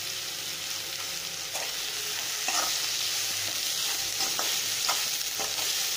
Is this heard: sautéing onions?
yes